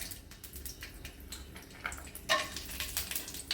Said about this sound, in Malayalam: ഇതിനകത്തോട്ട് ഇച്ചിരി അണ്ടിപ്പരിപ്പ് മുന്തിരിങ്ങയും കൂടെ നമുക്ക് വറുത്തെടുക്കാം